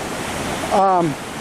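Caribbean Sea surf at Limón, Costa Rica, rushes in a steady, close hiss of breaking waves, with a brief tonal voice sound rising over it partway through.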